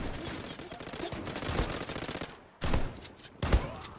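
Gunfire in the online shooter Zula, with rapid automatic bursts of shots rattling for over two seconds, then two separate single loud shots after brief gaps, moderately loud with no talk.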